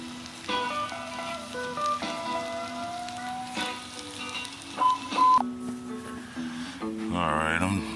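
Strip steak frying in a pan at a campsite, giving a steady, close crackling sizzle throughout, with tonal sounds layered over it and a brief voice near the end.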